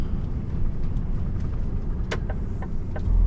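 A truck pulls into an unloading area with ramps at the Norex site in Gniewkowo, Poland: a steady low engine rumble with a few short rattles and clicks, rising slightly toward the end.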